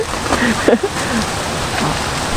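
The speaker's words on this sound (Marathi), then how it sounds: "एक नंबर पावसाने तर पूर्ण धुमाकूळच घातलाय" Heavy monsoon rain pours outdoors as a steady, dense hiss across the whole stretch, with a brief murmur of voices near the start.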